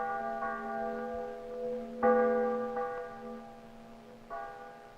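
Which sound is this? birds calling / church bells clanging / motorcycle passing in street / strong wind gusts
church bells clanging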